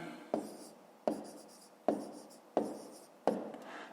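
A pen writes numbers on paper in five distinct scratchy strokes, each a sharp onset fading out, spaced roughly evenly and heard close up with no talk.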